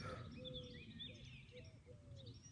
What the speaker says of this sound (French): vous entendez les oiseaux? On se croirait presque au Costa Rica. Costa Rica, mais avec des tourterelles.